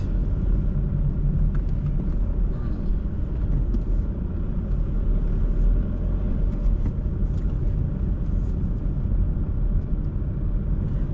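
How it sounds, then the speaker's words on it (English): Continuous low road rumble and engine drone of a car driving around, heard steadily from inside or close by for about eleven seconds, with no talking over it. "Let me drive around."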